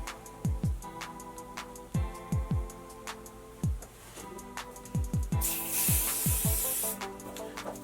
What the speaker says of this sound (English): Get this hairspray. This is a great hairspray